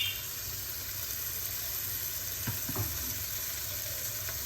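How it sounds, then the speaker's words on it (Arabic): Chicken breasts frying in oil in a pan give a steady, close sizzle with a few small pops and crackles, alone with no talk. "طاوه غادي نديرو هذوك صدوره ديال الدجاج، غادي نزيدو لهم الزيت"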